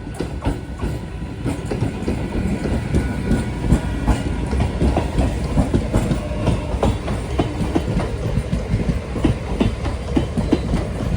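A Karwar–Madgaon MEMU train rolls past at a railway crossing, a loud, continuous rush of wheels with steady clickety-clack rhythm from the rail joints throughout.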